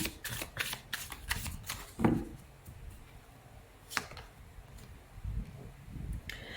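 Tarot cards shuffled by hand for a reading, a series of quick riffling and flicking bursts with soft taps between, close but quiet.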